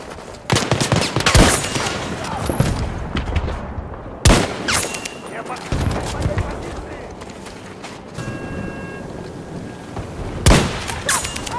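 A PlayStation 4 shooter video game fills the scene with repeated loud gunshots and rattling bursts, close and sharp, spread steadily through the whole stretch.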